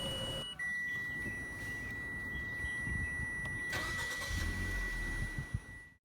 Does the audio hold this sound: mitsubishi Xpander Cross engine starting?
yes